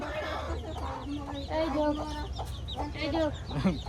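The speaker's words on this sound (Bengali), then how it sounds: "মা বলছে ছাড়লি কেন মুরগিগুলো" Chickens cluck near and far outdoors at a family home, with several short bursts and rising calls through the clip, and voices talk faintly in the background.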